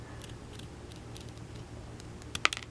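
Scissors snip through paper while cutting out a Star Frontiers game token, a quick burst of a few crisp cuts near the end after quiet low background hum.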